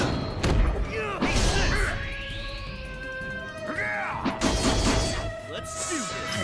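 A shooting slash attack in Fairy Fencer F Advent Dark Force lands as a rapid series of heavy thuds and whooshing sweeps, with ringing tonal effects and game voices mixed in.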